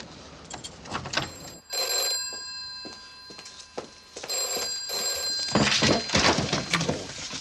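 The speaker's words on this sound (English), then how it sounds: "The phone's ringing." A telephone bell rings in repeated bursts, loud and close, with short pauses between rings and some thumps in the background.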